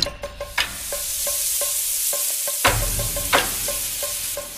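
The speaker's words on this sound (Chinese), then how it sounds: "啪啪鱼下锅。" Fish hits hot oil in a pan and sizzles, with sharp spattering pops and repeated light clinks and scrapes of a utensil over a steady hiss, close and alone.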